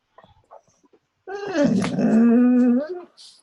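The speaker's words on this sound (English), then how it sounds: "that's a dog asking" A dog whines and growls while begging for food, starting with a few soft, scattered noises and then giving one sustained, close, whimpering whine that rises and falls for under two seconds.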